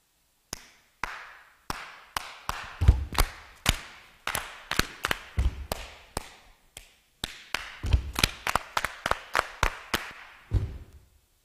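Bare hands clap out a clave rhythm: sharp, dry claps in repeating syncopated groups, close and loud with no other sound, a few heavier low thumps landing among them.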